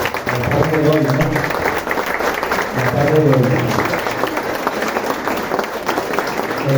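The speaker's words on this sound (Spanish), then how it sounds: "lo primero es brindarle un fuerte aplauso" Audience applause for a governor at a civic history lecture, a sustained crowd of hands clapping at moderate loudness with voices talking over it at intervals.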